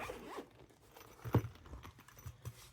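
A zippered watch case being unzipped, a short rasping zip near the middle with a few soft handling clicks around it, close and fairly quiet.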